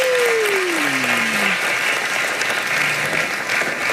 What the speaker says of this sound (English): You're welcoming them with clapping.